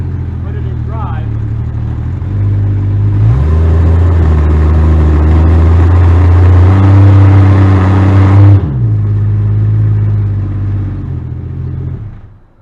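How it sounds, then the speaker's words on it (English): A Jeep truck engine in drive, held stationary while suffering a hesitation fault, revs up from a steady idle to a loud sustained roar and then drops back to idle. The engine is close, with talk underneath. "the truck could wind up, the engine speed did increase"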